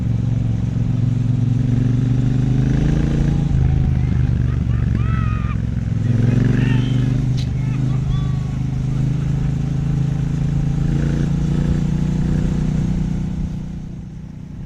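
A 2026 Triumph Speedmaster motorcycle engine while riding on the road: a steady, loud, low-pitched drone holds throughout, with a voice talking over it.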